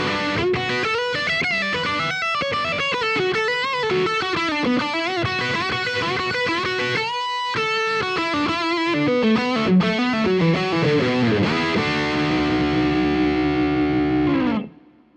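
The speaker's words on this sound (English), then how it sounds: "here's a taste of the distortion channel on this Friedman amp here" Heavily distorted electric guitar playing chugging riffs and chords through the distortion channel of a Friedman tube amp, loud and continuous, ending on a sustained chord that cuts off.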